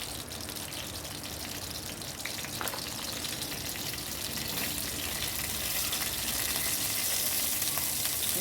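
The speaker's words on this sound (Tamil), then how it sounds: "கடுகு உளுத்தம்பருப்பு சீரகம் இது எல்லாம் நல்லா பொரியட்டும்." Mustard seeds, urad dal and cumin splutter in hot oil for a chayote stir-fry, a loud, dense, steady crackling sizzle that continues throughout with no voices.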